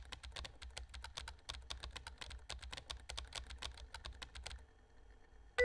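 Rapid, close keyboard typing in the video game Emily is Away, a dense run of clicky keystrokes that continues steadily for about four and a half seconds and then stops.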